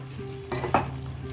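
Mixed winter vegetables fry and get stirred in a hot pan for a Bengali-style mixed veg dish, a steady sizzle with a few brief scraping stir strokes, close and moderately loud, no talking.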